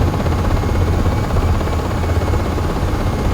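A UH-60 Black Hawk helicopter in a flight simulator decelerates for a terrain-flight landing, its rotor and turbine drone a loud, steady, dense rumble with low-pitched beating throughout and no talk.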